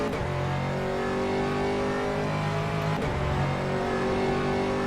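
Aston Martin race car engine in a racing video game at Silverstone, holding a loud, steady high-revving drone with layered harmonics that dip briefly near three seconds before climbing again, close and continuous with no talk.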